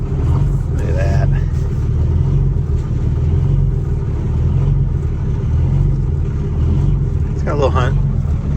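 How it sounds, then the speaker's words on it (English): The diesel engine of an old cabover bus, left sitting for twenty years, idles cold with a loud, continuous low rumble that hunts slightly in speed, while a voice speaks briefly over it. "The engine's hunting a little"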